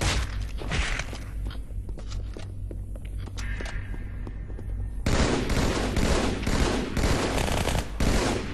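Rapid automatic gunfire from Halo rattles in sustained bursts, lighter at first and then heavier and louder after a few seconds, close and continuous with no voices.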